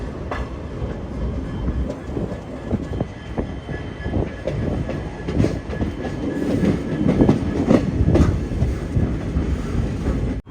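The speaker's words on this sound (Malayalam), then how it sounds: "ഇവിടെയാണ് നമ്മൾ നേരത്തെ കണ്ട നമ്മുടെ വിവേക് എക്സ്പ്രസ്" The Vivek Express, an all-sleeper train on the Dibrugarh line, rolling along with steady rumble and rhythmic clickety-clack of wheels over rail joints, loud and close, building slightly in intensity.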